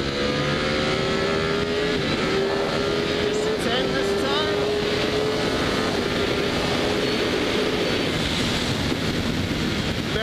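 Ducati Panigale V4 base model motorcycle engine accelerating on a track straight, a loud continuous high-revving roar with rising pitch sweeps and heavy wind rush, with a rider talking underneath.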